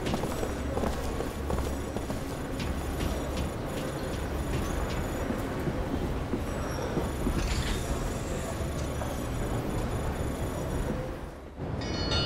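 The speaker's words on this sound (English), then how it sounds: "Okay, take the monorail." Monorail train from the video game Lost Odyssey running steadily, a continuous rumbling rail roar with faint wheel squeal that holds loud throughout and drops away briefly near the end.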